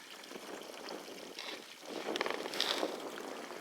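Creek water flowing from an old spring in Missouri woods, a continuous soft burble and trickle with brief splashy swells, fairly quiet and near.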